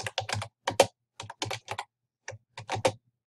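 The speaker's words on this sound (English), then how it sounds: "And you want to type in your running head." Typing on a computer keyboard while entering text into a document in Google Docs, with quick clusters of crisp, close key taps separated by short pauses.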